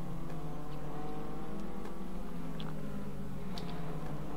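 Renault Mégane Trophy race cars racing at Interlagos, engines snarling and revving hard at close range as cars pass in a continuous, loud roar with rising and falling pitch.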